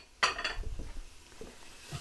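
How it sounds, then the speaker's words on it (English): Winter stew sizzles in a pan, with a sharp clatter of a utensil against the pan near the start followed by soft stirring and scraping, close and fairly quiet. "Okay, that's feeling warmer now. You can hear the sizzle."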